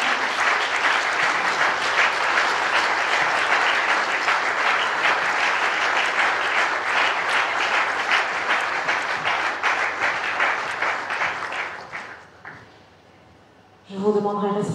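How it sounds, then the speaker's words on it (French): Sustained applause with cheering from a conference crowd at an entrepreneurship event fills the hall steadily for about twelve seconds, then dies away, and a voice resumes speaking. "Alors que nous raccompagnons le Dr Mike Johnson avec des acclamations"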